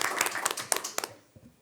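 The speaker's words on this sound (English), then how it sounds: "So I'd like to all give a round of applause for James on this." A school board meeting audience gives brief, fairly soft applause honoring a student, with scattered hand claps for about a second that trail off into quiet near the end.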